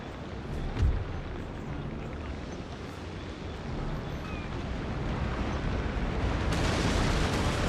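Naval ship cannon fire in Napoleon: Total War, a single heavy boom near the start followed by a continuous rumbling wash of wind and sea noise that slowly swells louder, with no voices.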